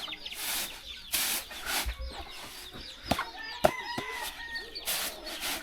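Chickens cluck and call in a Bru hill village on an early morning, with scattered clucks, brief squawks and rustling, and a few sharp knocks close by, with no talking.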